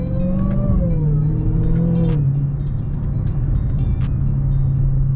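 A Dodge Durango SRT Hellcat's engine drones steadily while driving, with a rising tone that settles into a deep, constant hum. Small clicks and ticks sound faintly over the continuous rumble.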